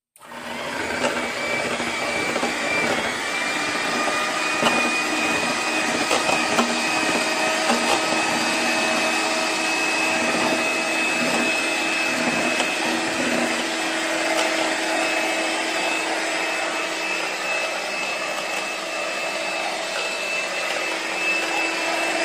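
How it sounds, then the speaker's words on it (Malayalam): Electric mixer beating two eggs in a bowl for carrot cake batter, a steady continuous motor whine with a constant pitch, loud and close, running throughout without speech. "നമുക്ക് ഈ മുട്ട ഒന്ന് ബീറ്റ് ചെയ്തെടുക്കാം."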